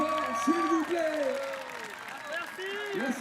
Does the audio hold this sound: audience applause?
yes